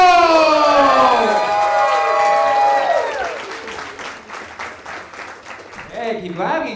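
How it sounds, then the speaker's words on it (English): Loud applause and cheering from a comedy club crowd greeting an amateur contestant, dense and sustained before thinning out, with a voice coming in over the tail end. "Hey, keep clapping."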